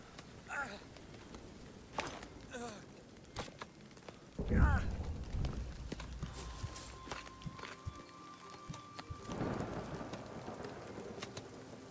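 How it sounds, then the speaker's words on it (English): Hailstorm with rain and thunder in the video game Nightingale, a steady wash of pelting precipitation with sharp impacts and a loud low rumble near the middle, continuing under the scene without speech. "We need the hailstorm to stop."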